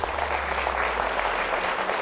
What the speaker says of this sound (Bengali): এই শব্দ, এই এত হাততালির শব্দ প্রমাণ করছে